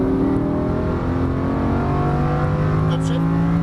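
A Lamborghini Huracan LP610-4 engine under hard throttle, a loud sustained roar with steady harmonic tones as the car accelerates out of a left-hand exit, close and continuous throughout.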